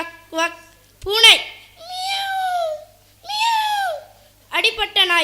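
Children at a school competition imitate a cat, giving a series of drawn-out, rising and falling meows one after another, close and clear.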